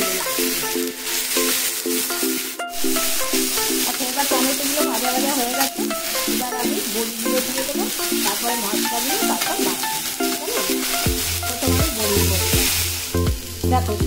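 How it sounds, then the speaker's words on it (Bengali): Tomatoes frying and being turned in a pan with steady sizzling and stirring, joined by a loud tonal background sound throughout and a low rumble near the end. "টমেটোটাকে আমি একটু উল্টে পাল্টে ভেজে নেব"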